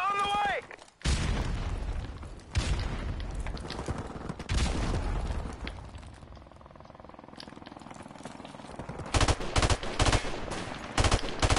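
Gunfire in Call of Duty 4 team deathmatch on the Bog map: bursts of rapid automatic shots and loud reports across the round, with a busier flurry near the end and voices talking over the action.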